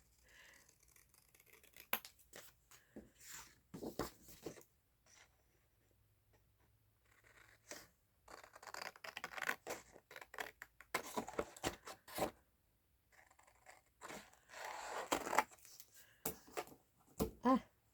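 Scissors snip and slice through paper in irregular bursts, close and quiet, with rustling and pauses between cuts.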